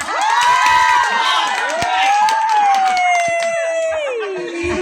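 A crowd cheers and shouts loudly and continuously at a school Teacher's Day celebration, with children's voices prominent and a long rising whoop over the din.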